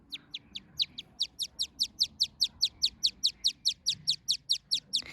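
Baby bird calling anxiously, a rapid, regular series of about two dozen sharp high chirps, close and loud, repeating without pause over faint background noise.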